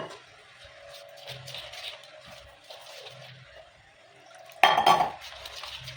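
Soft scraping and clinking of a utensil stirring a thin vegetable spring roll batter in a bowl, steady throughout, with a sharper clatter near the end.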